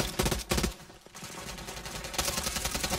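Bursts of automatic gunfire from the Warzone video game, several rapid volleys at moderate volume with a brief pause in the middle, no talking over them.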